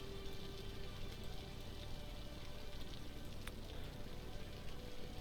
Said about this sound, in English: And we can still hear the sound of rain.